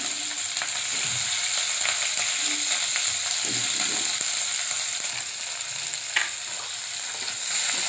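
Crushed garlic, green chilies and spring onion greens fry in a pan with a loud, constant sizzle, broken now and then by faint scrapes of stirring.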